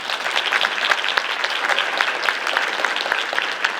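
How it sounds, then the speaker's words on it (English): An audience at a female athlete awards event applauds the young women with steady, lively clapping, close and continuous, with individual claps standing out from the dense wash. "give these young ladies a big round of applause"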